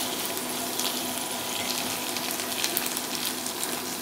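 Sticky corn with shrimp paste stir-frying in a pan, giving a dense, constant hissing sizzle that runs evenly throughout without any voices.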